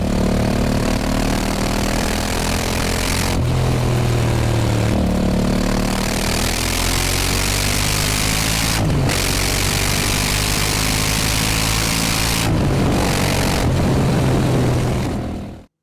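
A 2025 Honda CRF1100L Africa Twin adventure motorcycle with its stock exhaust, the parallel-twin engine loud and close as it revs and pulls through several gear changes with brief dips between, ending as the sound cuts off.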